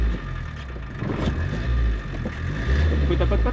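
A boat engine is cranked and fires up, running rough then revving into a steady mid-pitched rumble, close and fairly loud with surges in power.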